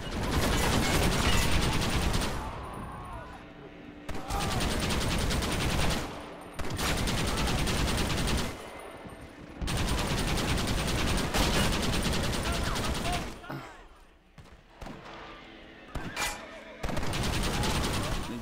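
Gunfire in the video game Red Dead Redemption during a fight at Fort Mercer, with dense bursts of rapid shots and short pauses between volleys, loud and continuous, while a voice talks at times.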